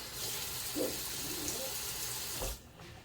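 Hot water poured into a flan water bath, a steady close rush of running water that stops abruptly near the end, no talking.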